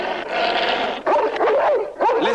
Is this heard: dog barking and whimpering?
yes